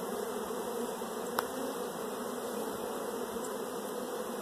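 Honeybees swarm and buzz in a dense, steady hum during a spring brood nest inspection of an open hive, close and continuous, with a brief sharp tick partway through.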